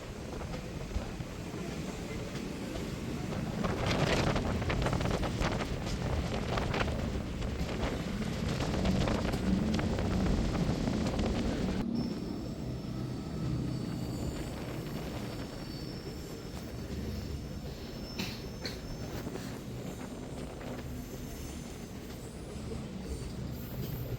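A train on the Kollam–Sengottai line runs through hill country near Thenmala with a continuous rolling rumble of wheels and carriages, steady and fairly close throughout, its tone shifting slightly midway.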